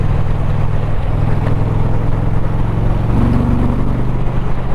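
Steady, loud wind roar buffets a rider on an Indian Challenger motorcycle with the windshield lowered, a constant rushing noise mixed with a low engine hum throughout.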